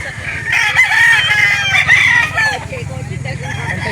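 A Hatch Gray gamecock rooster crows loudly and close by in one long, strained call, followed by faint low chatter and clucking in the background.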